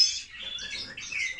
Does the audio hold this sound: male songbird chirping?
yes